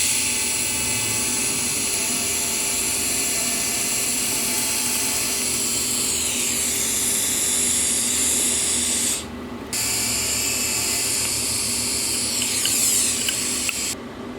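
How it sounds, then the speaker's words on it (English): An electric welder works on a Miata steering column shaft, giving a loud, continuous buzzing hiss that runs almost unbroken, with one short pause midway. "I'm just gonna clean it up and start welding it."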